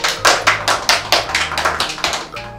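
Hands clapping in a steady rhythm at a children's fun game show, about a dozen crisp, close claps in quick succession, loud and alone.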